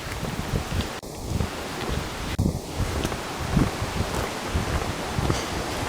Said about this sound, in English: I hear the river getting louder here.